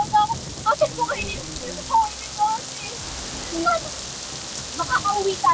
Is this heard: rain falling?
yes